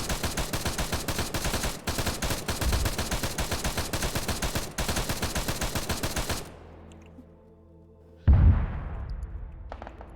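Loud sustained automatic gunfire from a military video game, rapid rhythmic bursts for about six seconds, then a brief lull with faint low rumble before another sharp blast and echoing shots.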